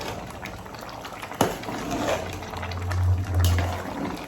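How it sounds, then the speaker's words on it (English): Nigerian bitter leaf soup boiling in a pot, a steady close bubbling and simmering wash with a sharp knock partway through and a stronger rolling boil near the end, no talk. "the soup is boiling pretty well"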